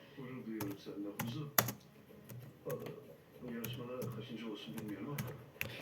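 Computer keyboard typing with scattered clicks and a few sharper key strikes, heard under a person talking in Turkish.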